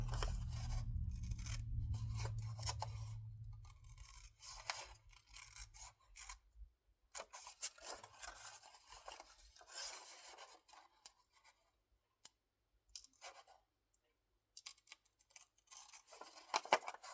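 Scissors snip through paper, cutting around a traced outline to make a homemade windowed coin envelope; close, irregular bursts of crisp cutting and rustling follow a low hum at the start, with pauses between cuts.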